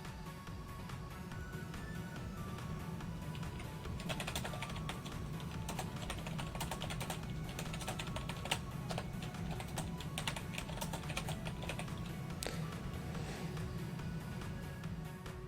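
Someone typing a prompt on a computer keyboard, a faint irregular run of soft key clicks over a quiet background hum.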